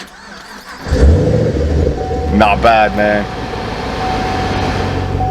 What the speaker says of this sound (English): the startup and of course the sound of the exhaust